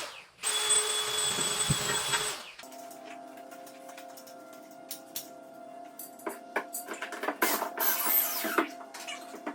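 A power drill whirs into a wooden joist to bore a pilot hole for lag screws, a loud steady burst of a couple of seconds, followed by quieter ticking, clicking and mechanical hum.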